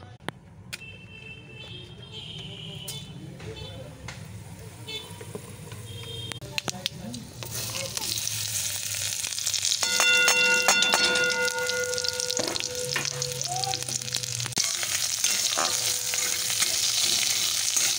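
Five-spice tempering for mango chutney crackles in hot oil in a kadai, the sizzle swelling louder midway with stirring clatter and faint background voices and household noise.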